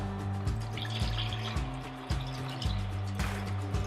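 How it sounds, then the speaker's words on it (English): Steady trickle of water running into a container, with a continuous liquid splash throughout and a low rhythmic mechanical pulse underneath. "I will add a little bit of filtered water first"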